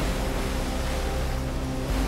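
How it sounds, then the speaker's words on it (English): Big waves crash onto a rocky shore during a Tofino winter storm, a continuous loud roar of surf and wind noise with no pauses. "watch the incredible waves crash into the shore"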